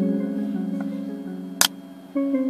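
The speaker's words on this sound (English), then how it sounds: "What you just heard was the lens separating." A plastic lens mold in a Brill Qspex lens setup cracks once as the lens separates, a single sharp snap standing out over a steady, quiet tonal hum.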